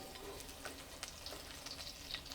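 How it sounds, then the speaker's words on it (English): Garlic stir-fries in a pan for a Thai mixed-vegetable dish, a faint, even sizzle broken by light clicks and scrapes of stirring, with no voices. "Step 3, time to stir fry. I'm going to start from garlic"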